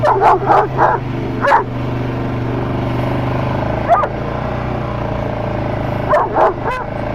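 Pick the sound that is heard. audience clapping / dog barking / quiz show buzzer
dog barking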